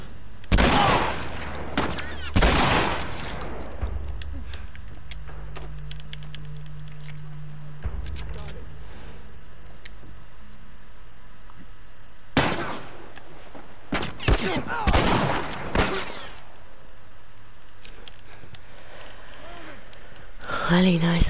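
Gunfire in The Last of Us from an enemy, with loud, sharp bursts of shots in clusters at the start and again midway, separated by quieter stretches of ambient sound.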